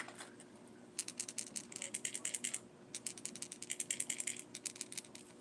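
A rattling squarebill crankbait fishing lure shaken by hand, sounding as fast bursts of light clicking rattles in two runs with a short pause between.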